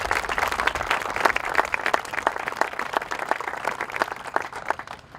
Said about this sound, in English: those guys deserve a real round of applause